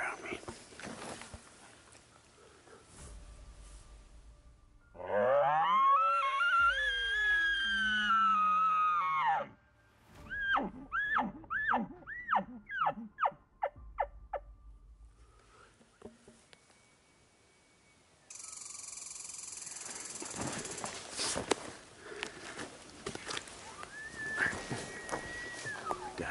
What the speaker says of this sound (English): the sound I'm hearing across the canyon is a mature bull.